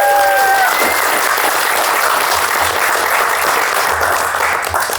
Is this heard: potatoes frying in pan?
no